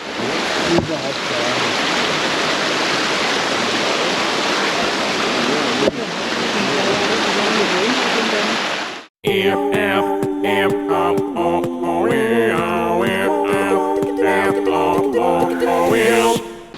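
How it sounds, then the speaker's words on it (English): Steady broadband rush of a waterfall in Berlin fills the first half, loud and continuous, before giving way to other louder sounds with voices. "Okay, there's a waterfall as well, no? Yes. I can hear the sound of it."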